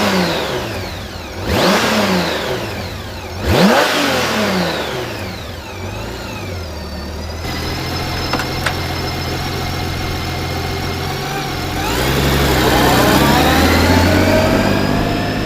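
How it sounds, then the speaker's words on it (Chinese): Honda Gold Wing GL1800 touring motorcycle, the large flat-six generation fitted with navigation and electronic suspension, blipped twice in sharp revs, then settling into a steady low idle and a longer rising rev near the end, close and loud with no talk. "请大家听一下这代发动机声浪"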